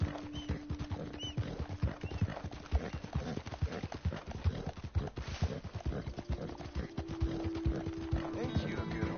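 Horse hooves clop in a steady, close rhythm on the ground in Red Dead Redemption II, with a brief soft whinny partway through and a quiet background hum under the footfalls.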